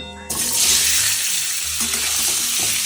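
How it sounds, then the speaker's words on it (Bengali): Boiled potato halves dropped into hot oil for Bengali niramish aloor dom, a sudden loud sizzle that starts abruptly and keeps crackling steadily, with some stirring noise. "এই সেদ্ধ আলুগুলো এবারে ভাজবো তেলের মধ্যে দিয়ে।"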